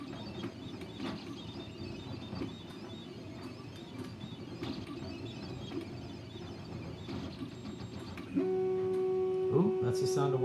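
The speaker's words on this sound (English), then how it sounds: "Oh, that's the sound of one printer getting done." A 3D printer finishing its job sounds as a steady motor tone that rises in pitch and ends with a short sliding sweep, close by, following a stretch of soft workshop clatter and handling noise during a drone build.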